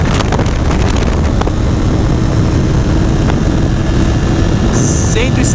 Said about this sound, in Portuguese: uma moto de 300 cilindradas que atinge ...170, 180 por hora